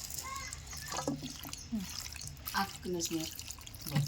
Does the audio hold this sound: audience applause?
no